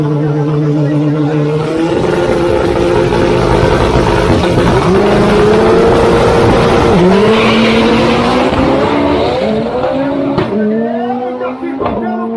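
A Honda race car accelerates hard on the Interlagos track during a practice day, its engine note climbing through rising revs with gear changes. It sounds loud and close, and a voice talks over part of it.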